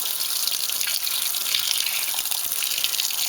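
Water streams steadily into a Maytag Centennial MVWC415 high-efficiency top-load washer as it fills, a continuous close hiss and splash with no voices.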